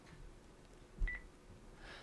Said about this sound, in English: this base will beep.